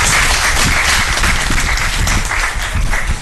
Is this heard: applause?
yes